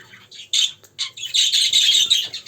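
A parrot lets out a run of close, loud, harsh squawks. The short rasping bursts build into a sustained screech near the end, and no one talks over it.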